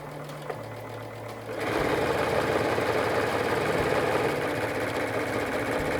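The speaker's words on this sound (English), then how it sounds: "So all I'm going to do is sew off of the first block and sew right onto the second block." Sewing machine chain stitching half square triangle quilt blocks, feeding straight from one block onto the next; a steady, fast mechanical whir that starts quietly, then jumps louder after a second and runs continuously.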